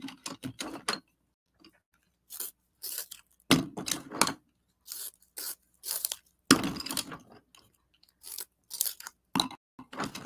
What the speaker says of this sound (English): I'm just sharpening all the pencils I pulled.